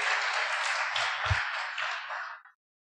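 Church congregation applauding together, a dense steady wash of many hands clapping for about two and a half seconds, then stopping abruptly into silence.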